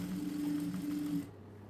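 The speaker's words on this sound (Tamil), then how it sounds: "ஒரே மாதிரி தைக்கணும்." A sewing machine stitches a folded half-inch hem on a chudidar lining, giving a steady close whirring hum for about a second before it stops abruptly.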